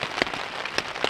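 Rain drumming on a hot tent pitched in the woods with a wood stove, a steady hiss broken by a few sharper drops striking the fabric up close.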